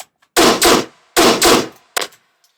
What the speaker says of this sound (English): it's a growl where I turn up the octave and it creates that rusty sound